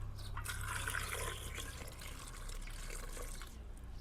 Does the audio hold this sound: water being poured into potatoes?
yes